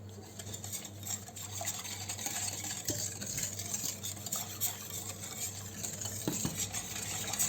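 A spoon stirs a flour, starch and sugar mixture in a pot for a strawberry dessert, with soft scraping strokes and light clinks against the sides, steady and close, with no talk.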